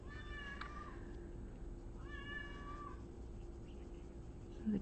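A cat gives two drawn-out, faint meows about a second apart over a steady background hum, with nobody talking.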